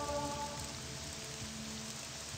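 Steady rain falls throughout a scene in the video game The Elder Scrolls III: Morrowind, a constant even hiss at moderate level with a faint tonal hum beneath and no voices.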